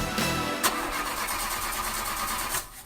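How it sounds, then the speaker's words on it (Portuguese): A car engine cranks and catches, starting up and then running steadily for a few seconds, loud and close with no talk over it. "Falhas na partida do seu carro?"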